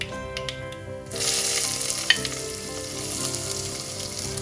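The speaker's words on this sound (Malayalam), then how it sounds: "കടുക് പൊട്ടിക്കഴിയുമ്പോൾ അരിഞ്ഞു വെച്ചിരിക്കുന്ന സവാള ഇട്ട് കൊടുക്കാം." Chopped onions hit hot ghee with popping mustard seeds and start frying, a sharp dense sizzle that swells in about a second in and then holds steady and loud, with a brief clink partway through and no talking.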